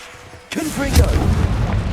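A Confringo fire spell blast from Hogwarts Legacy bursts in abruptly, a booming impact followed by a rumbling, crackling tail that stays loud to the end, with a voice murmuring underneath.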